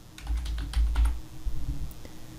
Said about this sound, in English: just type in a place